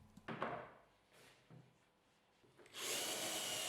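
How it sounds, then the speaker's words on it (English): A power drill with a countersink bit boring holes into a thin board for a cheap open wardrobe. A few short scraping bursts come first, then a steady, loud whirring drive at close range. "I drilled the required holes with a countersink bit to avoid deforming the board"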